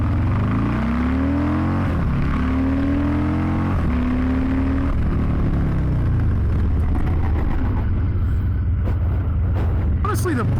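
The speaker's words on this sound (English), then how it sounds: "here's where we do the 0 to 60 in braking test" A Harley-Davidson Low Rider ST motorcycle pulls hard from a standstill, its engine note climbing through several gear shifts, then dropping off as the bike brakes to a stop, loud and close with wind noise.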